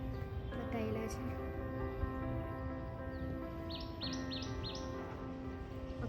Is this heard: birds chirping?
yes